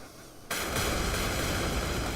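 Bombs from an F/A-18 Hornet in the DCS flight simulator explode on a road column, a sudden loud blast giving way to a sustained, dense roaring rumble that fills the rest of the moment.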